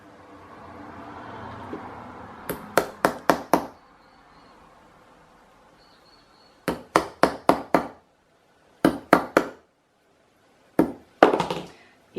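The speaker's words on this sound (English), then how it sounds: "take the nail and just hammer 2 holes in for sewing it on" A hammer drives a nail through a flattened found-object button to punch sewing holes, sharp metallic strikes coming in quick clusters of three to five blows separated by pauses, close and crisp over quiet background.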